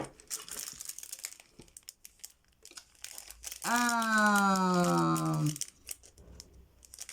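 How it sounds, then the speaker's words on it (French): A roll of adhesive tape is handled with soft rustles, then a long squealing rip of tape being pulled off the roll, followed by quieter handling. "Donc là, c'est du scotch. Un rouleau de scotch."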